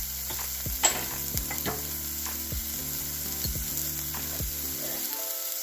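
Onion sautéing in a pan for pongal with tomato salsa, a constant dense sizzle broken by several sharp clicks and scrapes of a utensil against the pan, with no one talking.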